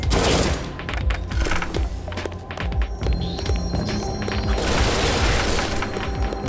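Rapid bursts of gunfire in an Unreal Engine 4 shooter game with custom sounds crackle and boom in clusters, loud and close, with brief pauses between volleys.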